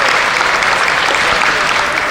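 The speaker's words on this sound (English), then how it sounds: "Let's give all of our exhibitors of champion rams a nice round of" Close, loud applause from the audience at a sheep show for the exhibitors of champion rams, a brief, dense burst of many hands clapping at once.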